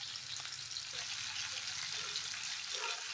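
Fish fries in oil in a pan, a continuous close hiss and crackle of sizzling that holds steady the whole time, with no voices over it.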